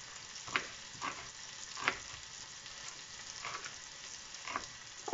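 Onions fry in a pan with a soft, steady sizzle, punctuated by a few brief scraping stirs, quiet and close, with no voices.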